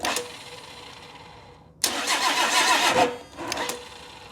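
Engine of a 1960 Pontiac wagon, sitting unused for 34 years, cranking with ether: a steady starter churn, then a sudden louder burst of engine noise lasting about a second, fading, followed by a brief second catch.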